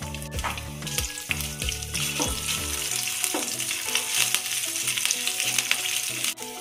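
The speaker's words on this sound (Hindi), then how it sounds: "इसमें 1/2 चम्मच अदरक का पेस्ट, 2 हरी मिर्च बारीक कटी हुई" Ginger paste and finely cut green chilies frying in hot oil in a kadai give a loud, steady sizzle with stirring noises, no one speaking.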